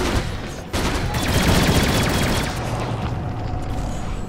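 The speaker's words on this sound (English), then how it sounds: "Dire's top tower is under attack." In Dota 2, a tower is under attack and the battle sounds are loud and dense. Rapid gunfire-like bursts and booming impacts roll on continuously, with a sharp hit near the start.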